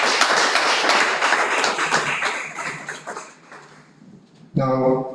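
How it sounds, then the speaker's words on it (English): An audience at a brokers' induction ceremony claps in a round of applause that starts full, fades away over about four seconds and then gives way to a voice speaking. "A round of applause for her."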